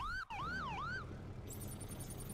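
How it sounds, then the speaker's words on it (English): Siren from a car in the video game The Crew, rising and falling in a few loud wailing sweeps that stop abruptly, leaving engine and road rumble under a high electronic tone, no talk. "Why does the sirens turn on by default"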